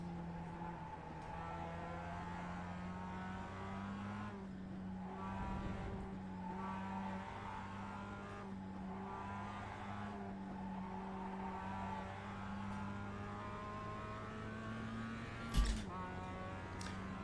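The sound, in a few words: Skippy race car engine shifting, from video game iRacing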